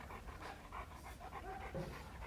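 A dog panting in quick, rhythmic breaths, close but faint and steady throughout, with no talking over it.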